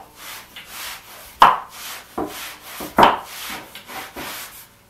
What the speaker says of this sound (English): That is the sound of the pasta stretching and slapping the board.